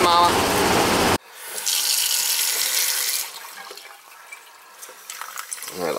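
A kitchen faucet with weak hot-water flow runs loudly at first, then cuts off abruptly and gives way to a quieter, hissing trickle of water.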